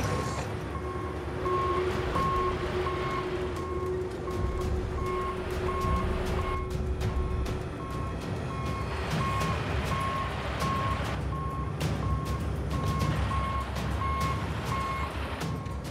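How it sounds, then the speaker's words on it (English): A 20-metre truck and trailer reverses through narrow suburban streets, its backup alarm beeping in a steady, evenly spaced rhythm over the continuous rumble of the diesel engine, close and loud throughout. "navigate up suburban streets, not designed for a 20-metre truck and trailer"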